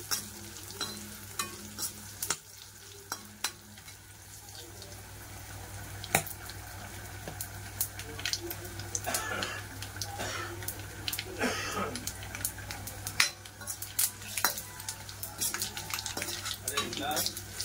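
Oil sizzles steadily in a pan as a spice tempering for sambar fries while a utensil stirs and scrapes, with occasional sharp clinks against the metal, close and fairly loud.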